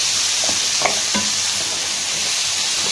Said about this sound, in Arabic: ومعانا برضو البطاطس اللي احنا مقطعينها مكعبات وغسلينها، هنفضل نشوح فيها كده